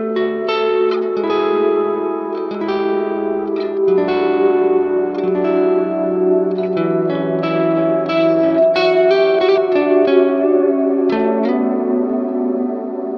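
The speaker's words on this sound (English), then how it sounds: "Yeah, split coil sounds good." A split-coil electric guitar tone through a Neural DSP Archetype Mateus Asato plays a steady run of chords and bright single notes, loud and close with reverb and echo washing behind it.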